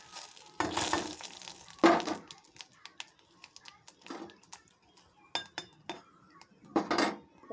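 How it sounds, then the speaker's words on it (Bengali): Boiled mango goes into a pan with panch phoron, dried chilli and bay leaf, bringing scattered clinks and scrapes of utensil on pan among short bursts of sizzling frying, close and fairly faint. "আম সেদ্ধটা দিয়ে দিলাম।"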